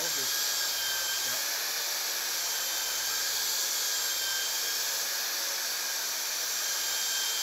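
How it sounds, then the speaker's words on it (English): A fillet weld sander with a hard-pressed grade 7 fleece disc grinding a weld seam on square stainless steel tube at high speed, giving a loud, steady, hissing whine that holds unbroken throughout. "you need the fillet weld sander again, this time with a hard-pressed fleece disc with hardness grade 7 and a high speed."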